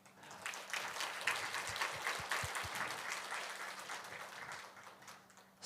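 A church congregation claps together during a Sunday worship service, a quiet, steady wash of applause with a low hum running underneath and a few deeper thumps partway through.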